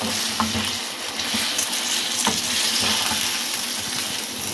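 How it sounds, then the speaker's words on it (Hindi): Chicken for a dhaba-style karahi fries on a high flame, sizzling steadily and up close, with occasional stirring scrapes and pops. "ये देखें ये हाई फ्लेम पे बना रहे हैं, थोड़ा सा चिकन का कलर चेंज हो जाए हमारी।"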